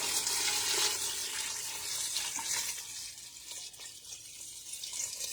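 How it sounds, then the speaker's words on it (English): Water pours steadily from a tap into a pitcher, a continuous bright splashing rush with no speech. "Pitcher filled up with water. Now we're going to fill this up."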